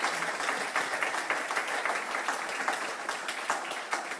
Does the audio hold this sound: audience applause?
yes